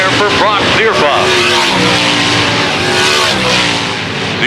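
Sprint cars race around a banked dirt oval in a feature event, engines roaring and rising in pitch as they rip off the corners, a dense, loud pack of motors with an announcer talking over the top.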